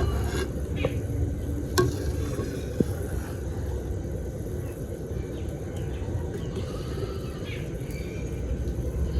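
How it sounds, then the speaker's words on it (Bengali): Thick sugar syrup bubbles steadily in a pot, a continuous low churning boil with occasional small pops and clicks, close by and without speech, while making orange-flavoured chhena sweets. "মিষ্টির রসটা কত সুন্দর টকবক করে ফুটছে"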